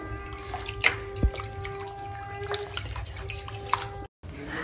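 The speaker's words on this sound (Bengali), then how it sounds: "আর এই যে এখন আমি চিকেনটা ধুয়ে নিচ্ছি, দেখো।" Water runs steadily from a tap while raw chicken is rinsed in a kitchen sink, with faint drips and light clatter, close by and fairly quiet, ending in a brief cutout.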